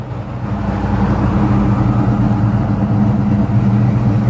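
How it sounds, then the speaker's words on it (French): A loud, deep engine rumble holds steady throughout, a classic 1968 Dodge Charger motoring nearby with a throaty low drone. "on va voir notre ami Charlie qui va passer avec la super belle chargeur"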